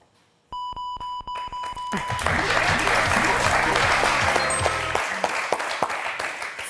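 On a French word-game show, a run of electronic beeps and a musical sting gives way to loud, sustained studio audience applause with music underneath.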